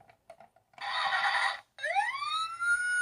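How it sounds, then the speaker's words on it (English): A Paw Patrol Marshall toy fire truck siren blares close up, first a harsh steady electronic wail, then a rising and falling electronic siren tone, after a few faint clicks. "And it makes siren sounds too."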